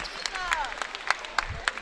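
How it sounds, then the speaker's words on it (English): Crowd at a high school basketball game, McEachern versus Windsor Forest, applauding with scattered sharp claps and a few shouts, moderately loud, alongside a commentator's voice. "round of applause"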